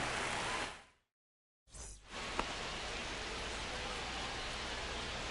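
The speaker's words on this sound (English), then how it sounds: "It feels like we might be headed towards a rain delay if the weather doesn't ease up, Chris." Steady rain hiss in the MLB The Show 25 baseball video game, a loud broadband wash that cuts out for about a second early on, then resumes continuously with a single small tick.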